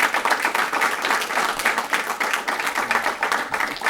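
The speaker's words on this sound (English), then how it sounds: "join me in a round of applause for these folks" Steady applause from an audience at a military promotion ceremony, many hands clapping densely and evenly throughout, fairly close and loud, with no talk over it.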